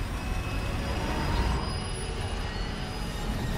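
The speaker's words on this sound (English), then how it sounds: "Sounds like a train crash." Train crash in the video game Far Cry: New Dawn, a dense continuous rumble of grinding metal and rolling rail noise, steady and loud across the whole stretch with no voices.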